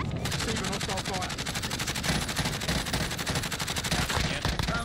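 Sustained rapid automatic gunfire in a shooter video game, loud and continuous rattling bursts throughout, with a player's voice talking over the shooting.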